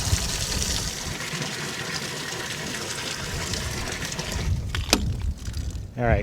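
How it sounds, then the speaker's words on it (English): Water gushing from a thawed, previously frozen outdoor hydrant, a continuous loud rushing flow up close that eases near the end, where brief clinks and a short vocal sound break in. "at least that water's running"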